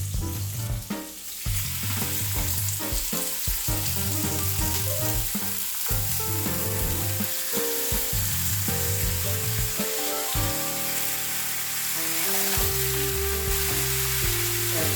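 Roast beef warming in butter in a hot pan, a continuous loud close sizzle and crackle with no talking.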